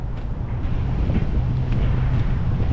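Strong wind buffets the microphone at Walsh Bay on Sydney Harbour with a steady low roar and rumble, continuous and close, with no voices.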